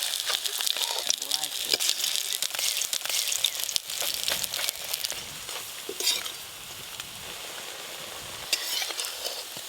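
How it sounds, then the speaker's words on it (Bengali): Pumpkin flower fritters fry in a small amount of oil with a bright, continuous sizzle and crackle, close up, while a spatula stirs and scrapes now and then. A voice talks faintly underneath. "কুমড়ো ফুলের বড়া ভালো করে ভেজে নিয়েছি, এবার তুলে নেব।"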